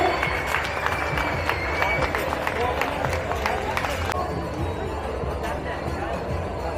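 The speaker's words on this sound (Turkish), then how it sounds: "Şöyle kuvvetli alkış istiyoruz hanımefendilere, değerli beyefendilere" An audience at a village association's Goose Night gathering claps loudly and steadily for about four seconds, then the clapping fades into crowd murmur and chatter.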